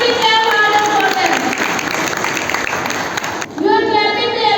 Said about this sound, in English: You are clapping to appreciate our children to do something good.